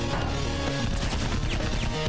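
Enemy gunfire in the action game Iji rattles in dense, continuous bursts with crashing impacts, loud and close throughout the short stretch, with no voices over it.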